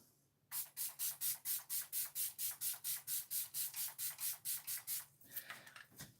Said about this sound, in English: I always forget to spray this before I put on my mascara